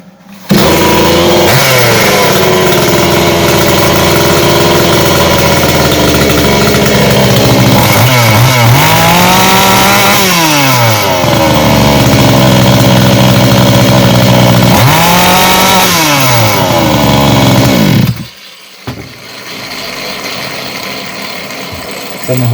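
PROCRAFT K450 PRO petrol chainsaw, smoking and with a cracked piston, runs loud and close at a steady idle, revving up twice in rising-falling surges before cutting out abruptly near the end, leaving faint background noise.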